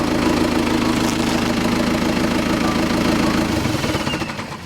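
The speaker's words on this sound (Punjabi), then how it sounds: "ਲਓ ਜੀ ਸਲੈਸ਼ਰ ਫੇਰਿਆ ਜਾ ਰਿਹਾ" A tractor engine pulling a slasher mower runs loud and close with a steady rumbling, knocking drone, easing off slightly near the end.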